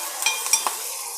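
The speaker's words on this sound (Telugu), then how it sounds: "కరివేపాకు గోలుతుంది." Curry leaves frying in a hot pan give a soft, brief sizzle, close and quiet, broken by a few light stirring clicks.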